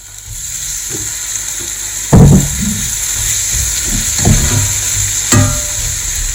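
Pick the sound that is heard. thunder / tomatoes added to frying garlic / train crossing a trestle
tomatoes added to frying garlic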